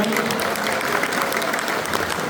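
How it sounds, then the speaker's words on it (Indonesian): Steady, dense applause from a crowd at an ambassador's farewell event fills the whole clip, loud and continuous without pause. "Kita berikan tepuk tangan lagi untuk Bapak Freddy dan keluarga."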